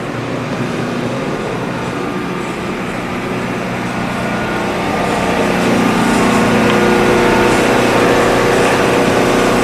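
A boat engine idles loudly and continuously, a droning motor hum that grows slightly louder partway through.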